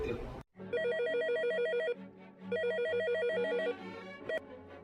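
An old-style telephone bell rings in two long trilling bursts separated by a brief pause, loud and close, after a short sound at the start.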